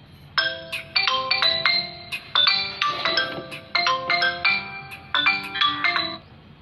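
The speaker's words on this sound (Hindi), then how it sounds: "एग्जीक्यूटिव साहब को फोन लगाते हैं।" A phone ringtone plays a bright, repeating electronic melody in steady bursts, clear and close, with no voices.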